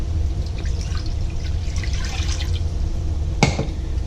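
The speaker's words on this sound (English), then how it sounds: "I'm putting about 2 cups of water" Water poured into a pot while making kimchi stew, a steady liquid trickle and splash running throughout at moderate loudness, with one sharper clink near the end.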